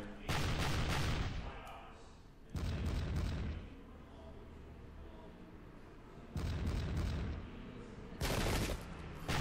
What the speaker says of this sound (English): The enemy's opening fire on our grenadiers, but we got some very good return fire there.